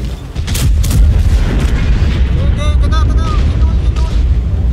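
Tank gunfire in the video game World of Tanks, heavy booming shots and explosions stacked over a dense rumbling battle bed, with a player talking excitedly over it.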